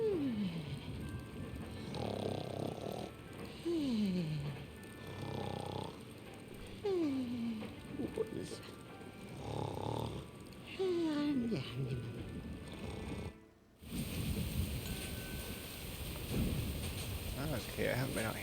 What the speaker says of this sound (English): good snoring right there